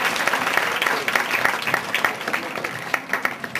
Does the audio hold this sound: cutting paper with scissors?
no